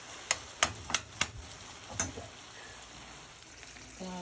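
Taco meat cooks in a pan with a faint, soft sizzle in the background, broken early on by a handful of sharp clicks or taps, quiet and close.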